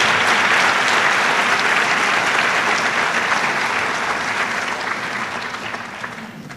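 Sustained applause from a large audience at a high school graduation ceremony, loud and steady throughout and slowly tapering off toward the end, with no talking over it.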